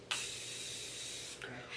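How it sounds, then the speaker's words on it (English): Morphe Continuous Setting Spray mists out in one sustained hissing spray lasting over a second, close and fairly loud, followed by a second short burst near the end. "This is the Morphe Continuous Setting Spray."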